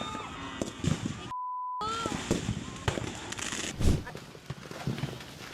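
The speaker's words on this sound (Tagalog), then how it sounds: "Kinukunan lang ng video ang nagpuputokang fireworks na yan sa Barangay de la Paz, Antipolo City" Firework blasts and firecracker pops burst from ignited firecracker stalls during New Year's Eve revelry in Barangay de la Paz, Antipolo City, with irregular cracks and booms over crowd noise and voices, one loud burst standing out near the end.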